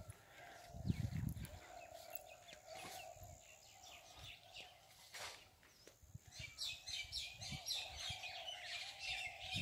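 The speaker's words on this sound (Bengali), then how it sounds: "চারপাশে বিভিন্ন পাখির ডাক আসছে।" Several wild birds chirp and call on a foggy, dewy winter morning in a rural outdoor setting, with scattered tweets and trills near and far, one louder burst early on, and busy chirping building toward the end.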